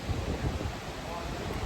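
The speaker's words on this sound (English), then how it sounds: "I hope you guys can hear me because it's kind of windy" Steady wind buffets the microphone outdoors at a beach, a continuous low rumble with no distinct events through the whole short span.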